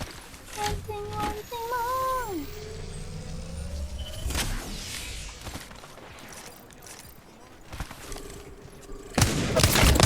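Gunfire in the battle royale game Apex Legends: scattered shots and booms mixed with game effects, rising whines and a rumbling engine-like drone, ending in a loud burst.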